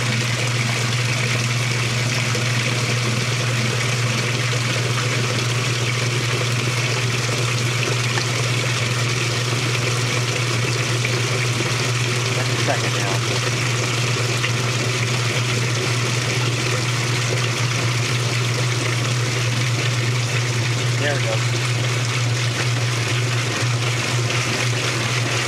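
A Whirlpool direct drive washing machine fills and agitates at once, giving a steady, continuous churning splash of water over a constant low motor hum, close and unbroken throughout.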